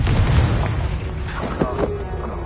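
A Confringo blasting spell explosion in Hogwarts Legacy, a low booming burst with rumbling body and scattered crackles, loud and close amid game ambience.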